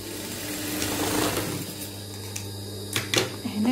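Sewing machine stitching fabric, a steady close mechanical whirring hum that runs for a few seconds and ends in a couple of short irregular clatters, with no voices.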